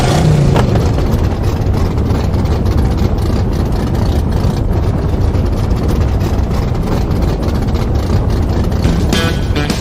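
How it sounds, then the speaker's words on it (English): Loud, steady engine rumble runs continuously, like several car engines revving and idling close by, with no voices over it. "Racers, start your engines."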